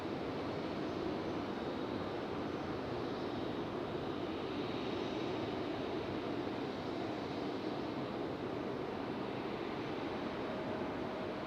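Breeze Airways airliner rolling near Terminal 1 at Raleigh-Durham International Airport, a steady broadband engine roar that holds at a constant distance throughout, with no voices over it.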